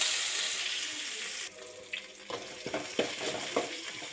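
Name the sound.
mustard seeds, cumin and curry leaves frying in oil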